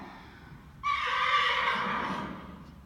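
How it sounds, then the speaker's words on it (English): During a dressage lesson warm-up, a horse gives a single loud whinny lasting about a second and a half, rising sharply and then trailing off over quiet arena background, with no speech. "That's one of the horses here."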